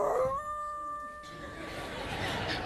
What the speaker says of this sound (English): That night, the winds were howling.